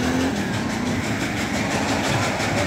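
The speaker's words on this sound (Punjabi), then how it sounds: "ਰੇਲ ਗੱਡੀ" A train passes close by, a loud, continuous rumble with a steady rhythmic clatter of wheels on the rails, heard alone without voices.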